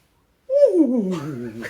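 A voice imitates a lone country dog howling at night on a mountain: one sustained, mournful wavering howl that slides downward, close and fairly loud.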